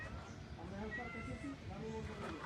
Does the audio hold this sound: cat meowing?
yes